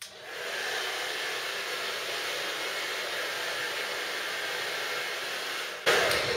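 A Babyliss Pro Power Light hair dryer blows hair dry: a steady, loud airy whoosh with a thin high whine runs throughout, then briefly surges louder near the end, with no talking.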